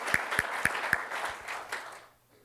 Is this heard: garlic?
no